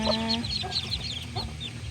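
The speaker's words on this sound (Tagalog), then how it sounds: "Nagkalat ng kanilang pagkain at tayo ng inahin ay nagkahig-kahig" Hens cluck in short, repeated bursts while scratching among scattered feed, alongside two-day-old chicks peeping, with soft rustling underneath; close and continuous, no talking.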